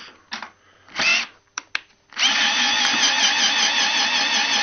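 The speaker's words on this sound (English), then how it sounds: "get your little power drill or cordless" A few short clicks and bursts, then a cordless drill spins up and runs at a steady, close whir until the end.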